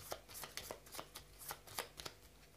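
Character cards for a board game being shuffled by hand, a quick series of crisp riffling bursts and soft slaps in a steady rhythm, close and alone.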